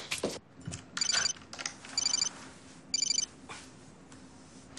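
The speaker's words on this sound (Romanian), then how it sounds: "Sună." A telephone rings in three short, evenly spaced bursts about a second apart. The rings are faint and sound like they come from across a quiet room.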